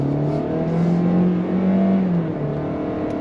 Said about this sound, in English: We're gonna go on throttle.